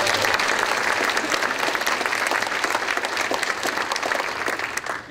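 An audience at a 2012 State of the University address applauds in a dense, steady wash of clapping that keeps going before tapering off slightly at the end.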